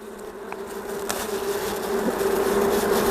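Honey bees buzz around an open hive during a March inspection: a steady, dense drone close by that grows slightly louder, with a few brief clicks and taps.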